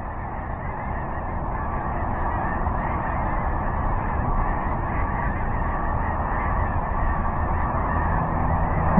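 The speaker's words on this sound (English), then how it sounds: "Look at all those snow geese. That's a lot of snow geese." A large flock of snow geese honks continuously, a dense overlapping chorus of calls that stays loud and steady throughout with no talking.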